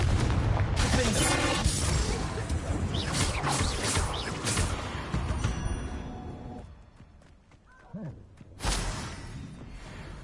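A Confringo explosive spell is cast in the Hogwarts Legacy video game, with booming blasts and rumbling impacts among dense game effects, then a quieter stretch and another sharp burst, with speech in the mix.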